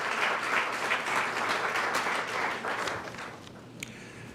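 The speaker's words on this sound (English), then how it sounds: "how about a round of applause to Allegheny College" Audience applause at a scholarship reception, a steady round of clapping from a crowd in a room that fades toward the end, with a faint voice underneath.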